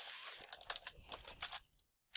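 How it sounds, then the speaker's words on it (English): Someone types on a computer keyboard in a short burst of quick, crisp key clicks, close and quiet, after a brief rustle, with silence between strokes near the end. "Okay, so I'm typing and typing and typing my answer."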